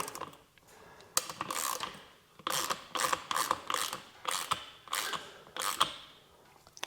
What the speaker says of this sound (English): But let's do it with a wrench. Lock that side there.